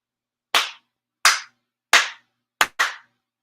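Ceremonial hand claps at a monthly prayer service, sharp and close in a quiet room: single claps about 0.7 seconds apart, with the final one landing as a quick double.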